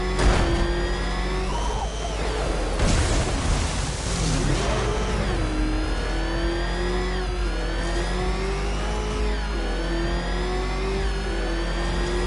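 Batmobile engine in Batman Arkham Knight revving hard and steadily, its pitch climbing and dipping in repeated sweeps, loud and close throughout with no talk.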